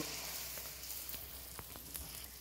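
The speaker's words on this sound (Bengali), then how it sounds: "তরকারিটা হয়ে গেছে, লুচি বানাচ্ছি" Luchi, a puffed flatbread, frying in a pan, giving a steady soft sizzle with a few faint pops and clicks throughout.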